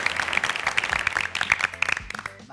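Studio audience on a Turkish family game show breaking into brief applause, dense scattered clapping that holds steady for a couple of seconds before thinning out.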